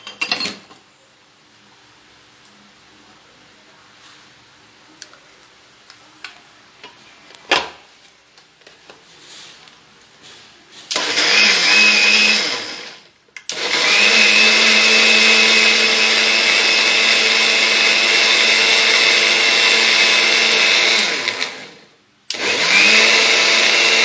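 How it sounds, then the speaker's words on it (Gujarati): A kitchen mixer blends ingredients in loud, steady bursts, with a short run, then a long roar of about eight seconds, a brief stop, and a restart, after quiet handling noises. "હવે આપણે થોડું મિક્સરમાં એને મિક્સ કરી લેવાનું છે."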